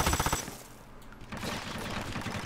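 Submachine gun fire in Hitman Absolution, starting with a quick, loud burst of rapid shots and followed by a fainter, steady rattle of continued fire.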